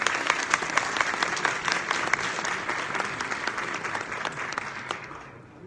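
An audience at the 23rd Besni Education Festival claps steadily to welcome speaker Şaban Çağran, a dense, even roar of many hands that slowly fades toward the end.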